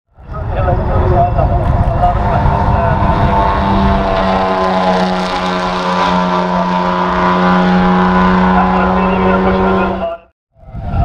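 A Ford GT race car cornering through a final right-hand bend on track, its engine a loud, sustained roar with a steady harmonic drone that fades out abruptly, while a voice talks over it.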